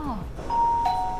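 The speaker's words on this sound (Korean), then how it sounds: "예, 초인종입니다. 제가 만든 겁니다." A small, thin homemade doorbell rings in an office with a clear, sustained electronic ding tone that holds steady for about half a second, close and fairly loud, with faint talk in the background.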